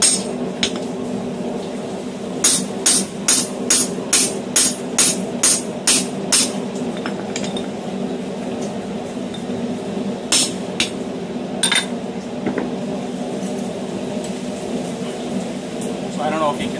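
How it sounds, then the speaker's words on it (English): Heavy rain pours down steadily outdoors at a forge, a continuous broadband wash behind a run of sharp, evenly spaced hammer strikes on hot metal while a Japanese-style hexagonal hammer is being forged. "I'm sorry if you couldn't hear me too well with the rain really coming down"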